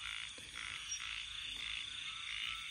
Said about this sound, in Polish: ich jest tyle, że słychać je wszędzie